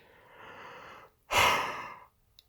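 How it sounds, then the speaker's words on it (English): A long, breathy yawn swells and fades over a second or so, close and unaccompanied, after a softer exhale. "Again with the fucking yawning, I swear to God."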